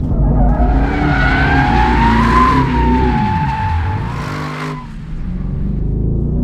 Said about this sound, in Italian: Guardate come va di traverso facilmente questa nuova Vantage.